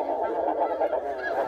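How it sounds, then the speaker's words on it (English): Geese honk repeatedly out in the open, a flock's overlapping nasal calls forming a dense, continuous chorus that is loud and fairly close, with no talk. "Look at these geese out there."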